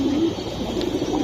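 A pair of pigeons coos in soft repeated throaty calls, close by and fairly loud, over a continuous low background with no talking.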